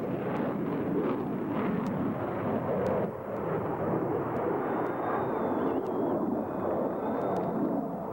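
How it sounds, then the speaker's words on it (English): A Navy F-14 Tomcat passes at high speed during a 1987 airshow, a loud broad roaring rush of jet noise sustained throughout, with wind buffeting and faint high whines over it. "we want you to watch for 4 vertical rolls as the F-14 passes and exits to the left"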